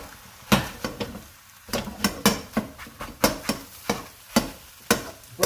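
Cold cooked rice, about three cups, stir-fried with egg in a pan, a spatula scraping and clanking against the metal in repeated sharp strikes over a soft steady sizzle.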